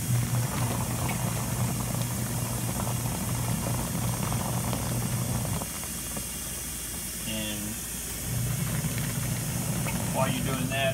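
A Della mini washer in a motorhome agitates water with a steady motor hum and churning slosh, the drone briefly dipping before resuming, with a voice speaking over it near the end.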